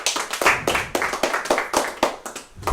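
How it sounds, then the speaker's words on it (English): A small audience claps, with distinct sharp claps in an uneven rhythm, close and moderately loud, lasting a few seconds. "Let's give him a round of applause."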